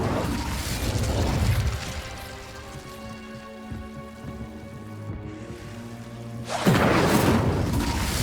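Incendio fire spell cast in the Hogwarts Legacy video game, a roaring, crackling rush of flame over sustained tonal hum, swelling briefly, settling, then bursting loud again near the end.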